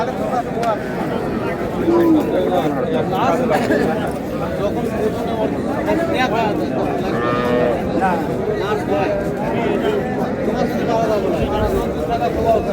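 Dairy cows and calves at a busy livestock market in Raniganj, Dinajpur, mooing loudly and repeatedly over a constant hubbub of crowd chatter and people talking nearby.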